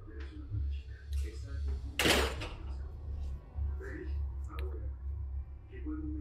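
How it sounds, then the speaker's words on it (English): A door swings shut with one loud, sharp thud partway through, set against a low steady hum, while a person's voice murmurs faintly before and after. "Shuts the door."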